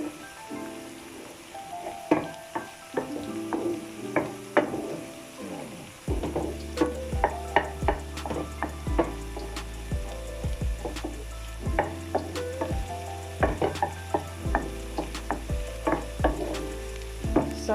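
Onions frying in a pan on a stovetop give a continuous sizzle under repeated sharp taps and scrapes of a utensil against the pan, with a deeper low rumble joining partway through.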